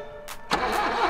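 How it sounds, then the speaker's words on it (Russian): A Lada Zhiguli car engine cranks but fails to start: a short whirring starter burst, then a louder sputtering crank up close, with no voices. "Ну что ж, вы убили автомобиль, Петр."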